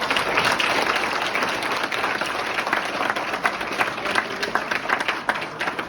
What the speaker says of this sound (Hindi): मैं चाहता हूँ एक बार जोरदार और ज़बरदस्त तालियां होनी चाहिए